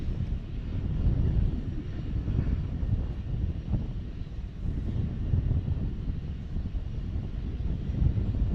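An airliner bound for London Heathrow takes off from Dallas Fort Worth International Airport, a steady deep engine roar with rumbling low end and some wind buffeting on the microphone, sustained throughout.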